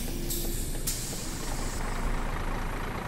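A Volvo B10BLE Wright Renown bus in the OMSI 2 driving game, pushed hard, gives a loud, continuous engine roar and rattle. A high hiss, like an air brake, cuts in and out over it.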